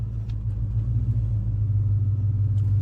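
The engine of a 1988 GMC Sierra SLE pickup truck idles with a steady, deep low rumble, close and even throughout, with a few faint clicks and no talking.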